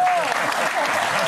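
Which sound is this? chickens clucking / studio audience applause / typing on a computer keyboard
studio audience applause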